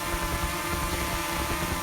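A mini drone flies outdoors on a clear morning, its steady buzzing propeller whine filling the whole moment at constant loudness with no talk.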